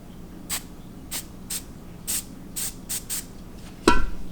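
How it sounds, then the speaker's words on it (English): Hairspray sprayed onto a mold in short bursts, about eight quick hissing puffs at irregular intervals, close by, followed by a louder clatter at the end. "I'm going to do a little bit more hairspray on one part"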